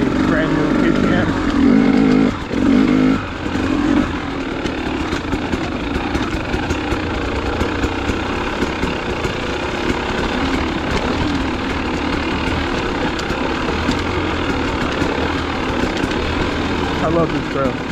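A brand new KTM dirt bike rides a trail in a steady engine drone that runs the whole stretch, with a brief dip early on and wind noise throughout.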